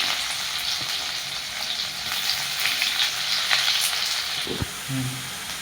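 Onions tossed into hot oil with fennel seeds for a village-style country chicken curry give a loud, continuous close frying sizzle, with a couple of soft knocks from the spatula near the end and no speech.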